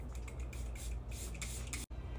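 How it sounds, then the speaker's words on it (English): Setting spray mists onto a face in short, hissing bursts from a pump bottle, repeated several times close up, followed by a brief moment of silence. "I'm gonna put setting spray on it and see if it helps."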